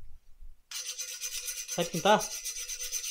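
A homemade triangle pull handle for a home gym being sanded, making a continuous close rasping rub that starts after a brief silence, while a voice speaks briefly over it.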